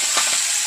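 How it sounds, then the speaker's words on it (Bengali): Pabda fish fries in hot mustard oil with a steady, loud, dense sizzle and crackle throughout the short stretch. No voices are heard. "দুটো করে মাছ ভেজে নেবো একবারে"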